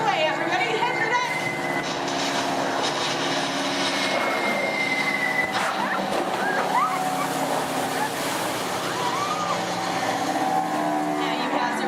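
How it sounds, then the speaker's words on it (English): Roaring aircraft engines from enemy bomber planes in a theme park ride show effect rumble continuously at a loud, steady level, with whooshing swells and a busy, layered background of crowd and effect noise. "You hear more enemy planes approaching."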